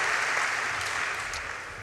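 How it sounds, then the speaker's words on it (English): A graduation ceremony audience fills the hall with dense, steady applause, loud and continuous, which then cuts off abruptly. "give yourselves a round of applause"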